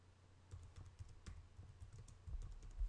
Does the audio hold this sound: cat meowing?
no